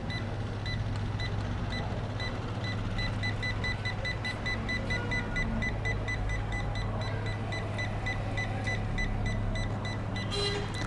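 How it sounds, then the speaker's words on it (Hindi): A UNI-T UT89XD multimeter beeps in rapid, evenly spaced pulses as it detects a live mains wire, a steady repeating alarm over a constant low electrical hum throughout. "ये इसका जो अलार्म है वो हमें सुनाई दे रहा है"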